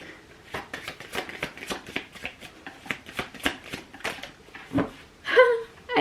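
Tarot cards being shuffled by hand, a quick run of crisp riffling flicks in a steady rhythm, close and clear, ending with a few slaps as the deck settles.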